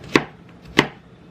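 Two crisp knife chops through an onion hit a cutting board, spaced a little over half a second apart, close and clear with nothing else.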